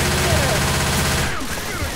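Dense, rapid gunfire in the zombie shooter Left 4 Dead 2, loud and close, with players' voices talking over the shooting.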